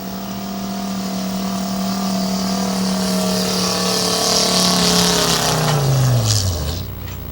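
A work stock gas pulling truck roars under load down a pulling track at a truck pull, engine note climbing loud and steady before dropping off sharply as it slows at the end.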